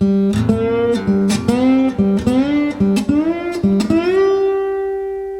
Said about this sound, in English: now we're going to slide into the notes